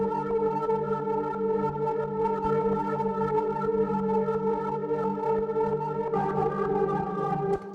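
A synthesizer pad layer holds a sustained, rich chord with a steady rhythmic pulse, full and loud throughout, then shifts to a new chord near the end before cutting off.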